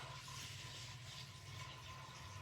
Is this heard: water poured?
yes